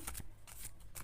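Tarot cards shuffled and handled for a Cancer reading, giving repeated soft riffling bursts about every half second, close and fairly quiet, with no voices.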